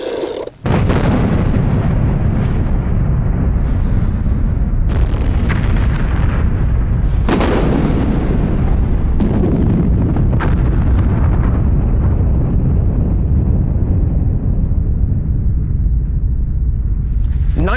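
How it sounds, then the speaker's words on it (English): WW1 mines exploding under enemy lines on the Western Front: a loud, sustained roar of heavy booming with repeated sharp blasts rising out of the din, filling the whole stretch. "At 3:10 precisely, the mines were blown."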